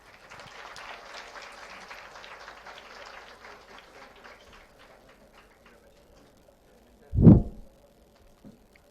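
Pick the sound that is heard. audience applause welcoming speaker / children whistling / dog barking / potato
audience applause welcoming speaker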